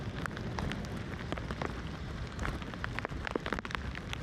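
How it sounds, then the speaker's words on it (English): Steady rain during a thunderstorm on the Ohio to Erie Trail patters on a hard surface, dense and continuous, with scattered sharper drops and a low rumbling wash underneath. "it's raining, thundering."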